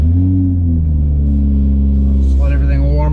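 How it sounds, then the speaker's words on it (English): A Toyota Supra fitted with a Pedal Commander fires up and settles into a loud, steady engine rumble at close range, with a voice speaking over the running motor. "Let's get fired up in our Toyota Supra."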